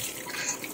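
Water runs steadily from a tap for a brief moment, a continuous hissing splash at close range with no voices.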